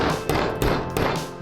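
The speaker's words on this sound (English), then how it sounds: "Process the resulting piece of angle iron with a hammer, giving it a more streamlined shape" A hammer strikes a piece of angle iron shaped over a large nail used as a mandrel, giving four loud, close, ringing metallic blows in a quick, even rhythm.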